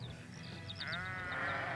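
Sheep bleat in a run of wavering cries from an album, the calls growing stronger and more sustained toward the end over a steady musical backdrop.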